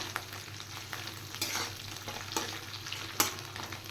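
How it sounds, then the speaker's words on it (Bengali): Onion frying together with fish roe in a pan gives a quiet, steady sizzle, broken now and then by scraping strokes of a spatula, with no speech. "মাছের ডিমের সাথে পেঁয়াজটা আর একটু ফ্রাই হবে"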